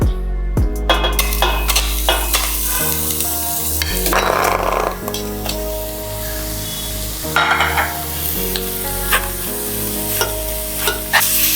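Chicken pieces hit a hot AMC cookware pan with whole spices, cinnamon, cloves and cardamom, and sizzle loudly, with stirring scrapes and metallic clinks of a utensil against the pan.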